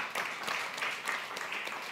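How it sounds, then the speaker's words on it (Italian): An audience claps at an Italian book presentation as a guest is welcomed, a steady patter of many hands at moderate volume lasting about two seconds with no speech over it. "Un applauso, grazie di essere con noi"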